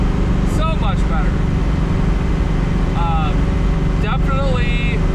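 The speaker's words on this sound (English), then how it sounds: "The engine's running so much better, so much better." An engine fitted with self-aligning rocker arms and pushrod guide plates drones steadily inside a car cruising at about 57 mph, loud constant road and motor rumble with brief whistling chirps on top.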